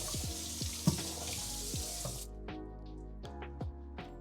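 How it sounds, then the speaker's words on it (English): Running water from a kitchen tap while beef stew is being prepared, a steady flowing rush that cuts off partway through, followed by scattered clinks and knocks of kitchen items. "I don't know how loud this water is, so I apologize if it's loud"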